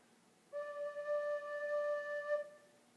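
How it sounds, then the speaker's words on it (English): A single sustained low D on a tin whistle, fingered with all six holes covered, rings out steady and clear for about two seconds in a quiet room. "This is what a low D sounds like."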